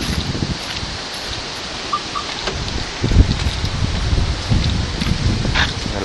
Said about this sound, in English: Man, that wind is just nuts.